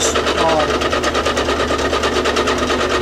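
A milling machine built from a converted drill press runs under heavy side angle stress, giving a loud, steady mechanical whir with a fast, even pulsing throughout.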